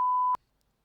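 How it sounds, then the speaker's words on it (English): A pure sine wave tone, a steady single-pitch beep held for about a third of a second and then cut off into silence. "The only sound that is a pure wave with none of these micro frequencies is called a sine wave."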